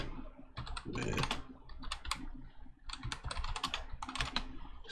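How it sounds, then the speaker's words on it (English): Rapid typing on a computer keyboard, close and clear, with uneven bursts of key clicks broken by short pauses and a steady faint hum underneath. "I'm gonna just type it in verbatim"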